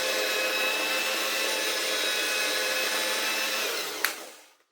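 A Hoover 5134 floor polisher scrubber runs with a steady, loud whirring motor drone, then is switched off with a click and winds down to silence.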